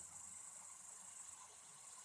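Cicadas drone in a summer field, a faint, steady high-pitched buzz that holds evenly throughout with no voices.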